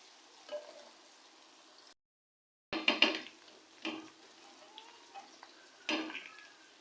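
Chicken frying with softened onions in a pot for degi chicken pulao, a loud sizzle with stirring and pot clatter after a short silent gap.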